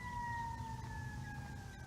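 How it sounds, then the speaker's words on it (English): An ambulance or fire truck siren wails steadily in the background, a sustained two-tone pitch sliding slowly downward as it passes, over low traffic rumble with no talk. "I'm hearing a siren in the background. It sounds like an ambulance or a fire truck"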